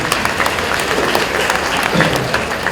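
Audience applause at a natural-farming event in Gandhinagar, a dense, continuous wash of many hands clapping at once, loud and sustained throughout.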